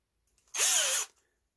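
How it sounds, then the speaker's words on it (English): A short, high-pitched whir of a power drill drilling a hole in the bottom of a flask, spinning for about half a second, close up, starting and stopping abruptly in otherwise quiet surroundings. "So next you want to drill a hole through the bottom of your flask"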